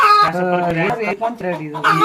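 Chickens of a free-range desi (gavran) breed cluck in a rapid, busy chorus close by, with several birds calling over one another and no clear gaps between calls.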